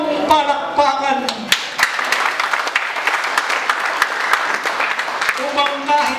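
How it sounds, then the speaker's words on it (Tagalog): An audience claps through dense, sustained applause that swells and fades, with a voice speaking briefly at the start and again near the end. "Ang hiling ko sa kapatid, masigapong palakpakan."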